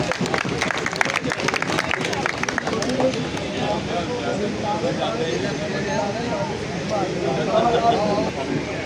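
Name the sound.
audience applause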